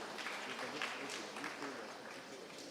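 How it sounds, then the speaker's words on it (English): Faint, steady applause from a debate championship audience for senior-category finalists, heard as a soft continuous wash with a murmur of voices beneath. "That also deserves a bigger round of applause"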